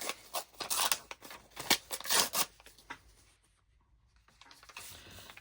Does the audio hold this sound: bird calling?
no